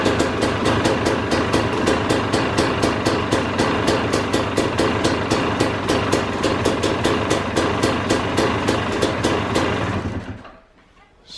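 Motorcycle engine fitted with a Keihin PWK 38 carburetor and STIC metering block, running on choke for a test start: a steady, rapidly pulsing close mechanical roar for about ten seconds before it cuts out abruptly.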